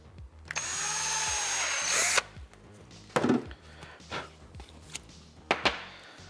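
Power drill boring a hole in a TIE pilot helmet, a steady high whine for about two seconds, then scattered knocks and handling clatter, close and clear.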